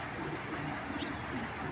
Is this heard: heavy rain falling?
no